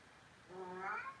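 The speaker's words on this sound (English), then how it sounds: "That's my cat, sorry." A house cat gives a single drawn-out meow with a rising then falling pitch, faint and slightly distant in a quiet room, with no talking over it.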